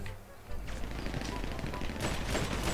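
Long-range gunfire in GTA V on a FiveM server, rapid close bursts of shots layered into a busy continuous clatter that grows louder toward the end.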